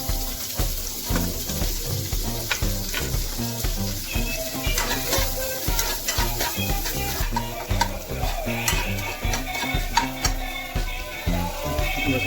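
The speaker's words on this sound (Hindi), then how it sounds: "ये गर्म हो गया है घी मेरा, इसमें मैं थोड़ा सा प्याज डाल देता हूँ" Chopped onion sizzles and crackles in hot desi ghee, with a continuous frying hiss and rhythmic stirring scrapes throughout, close and fairly loud, with no voices.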